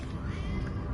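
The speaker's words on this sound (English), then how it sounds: "Can you hear my cat on that end?" A pet cat named Laszlo meowing during a No Man's Sky live stream; one short, close meow heard over faint game sound.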